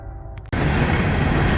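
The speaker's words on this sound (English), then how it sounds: "Waiting for this train to get by so I can quiet down a little bit" A train suddenly roars past at close range, a loud dense rumble that cuts in abruptly after a quieter idling background and stays steady to the end.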